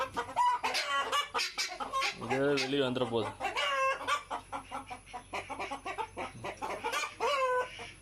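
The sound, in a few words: guinea fowl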